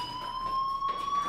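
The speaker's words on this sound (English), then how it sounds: "That fire alarm? That means you should be outside." A fire alarm in the video game Life is Strange rings as a steady, piercing electronic tone, held continuously at moderate loudness with faint background noise.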